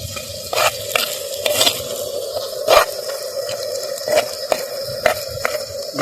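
A spoon stirs chili powder into a fish curry in a pan, scraping and clinking in irregular strokes over a steady sizzle and bubbling, close and fairly loud.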